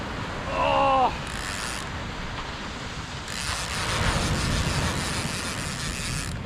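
A fishing reel cranks steadily on a beach while fighting a snapper, a continuous mechanical ratcheting whir close by, set against broad surf and wind noise, with a brief tonal squeal near the start.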